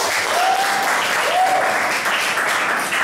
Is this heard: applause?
yes